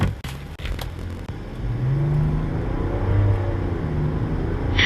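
A 2026 GMC Yukon with a 3L diesel inline-six and 10-speed transmission accelerating hard, a steady low engine drone building in pitch through the gears, heard from inside the cabin with no talking.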